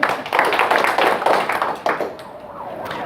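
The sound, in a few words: audience clapping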